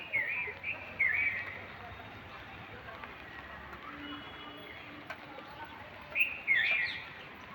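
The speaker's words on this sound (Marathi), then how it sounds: "तिथे उभे राहून ना थोडा वेळ असं चिमण्यांचा आवाजच घेत होते मी" Sparrows chirp in short, bright bursts at the start, around one second and again near six seconds, with quieter stretches of faint background between them on a quiet rainy morning.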